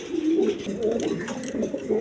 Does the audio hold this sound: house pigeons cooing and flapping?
yes